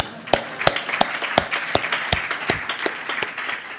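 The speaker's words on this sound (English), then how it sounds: "that deserves a round of applause." A seated audience gives a round of applause at a business conference event, a steady run of sharp, evenly spaced claps lasting several seconds, with no talk over it.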